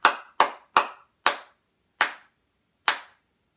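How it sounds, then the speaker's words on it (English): Six separate, sharp hand claps ring out at uneven intervals, crisp and close with silence between them, a sparse response to a magic act. "please give a round of applause for Freddy the Flea"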